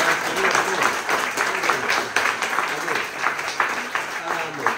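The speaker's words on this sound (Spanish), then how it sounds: "Vamos a dar un aplauso al Señor Jesucristo." A church congregation at a Sunday service applauds in a dense, continuous patter of clapping, with voices mixed in underneath.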